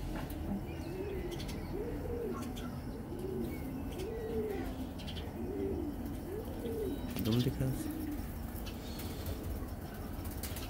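Pigeons on a Lahore rooftop coo in a slow, regular series of soft rising-falling calls, with faint wing flutters and a brief spoken phrase partway through.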